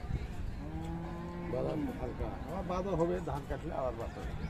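Friesian dairy cows low at a busy cattle market in Raniganj, Dinajpur, with a long, loud, near moo rising and wavering over a continuous crowd murmur and other animal noise.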